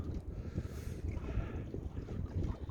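Strong, cold wind buffeting the microphone while fishing from a boat on the Volga south of Volgograd, with low rumbling gusts, choppy wave noise and some water sloshing against the boat.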